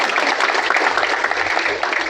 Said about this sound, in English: A good round of applause for India to be the 5th largest in 10 years time.